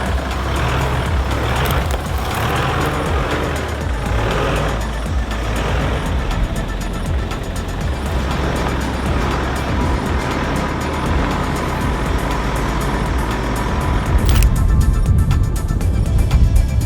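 A car drives along a rural road on Sumba, giving a loud continuous engine and road rumble with wind noise throughout and a brief louder surge near the end.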